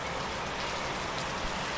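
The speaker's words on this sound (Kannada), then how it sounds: "ಫುಲ್ ಐತ್ರಿ ಮಳೆ." Heavy monsoon-style rain pours steadily over a house courtyard that has flooded like a stream, a dense, continuous hiss with no gaps and no voices.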